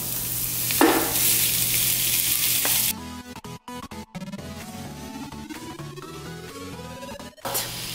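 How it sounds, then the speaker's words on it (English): Ground beef sizzles loudly with sautéed onions in a hot pan while being chopped up, a steady frying hiss that later thins out under brief tonal sounds, with no talking. "Adding in my ground beef and continue chopping it up."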